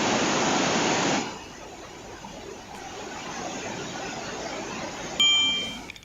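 Floodwater of the Telenga river in Simdega surging after heavy rain: a loud, steady broadband roar for the first second, then a softer continuous rushing wash, with a sharp brief noise burst near the end.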